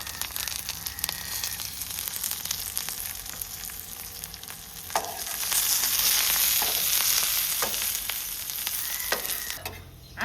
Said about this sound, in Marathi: हे अद्रक लसूण आहे ना, ते पण खोबऱ्यासोबतच भाजून घेते.